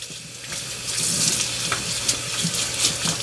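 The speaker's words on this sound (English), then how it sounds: "Okay, so turn some cold water on" Cold water runs steadily from a tap onto cooling towels being soaked, a continuous close hiss and splash with small fluctuations as the flow hits the fabric.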